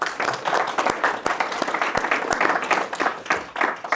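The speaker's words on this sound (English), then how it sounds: "So I think all of them deserve a big clap" Audience applause at a health-tech meetup in the UK, a dense, steady wash of many hands clapping with sharp individual claps standing out, sustained and fairly close throughout.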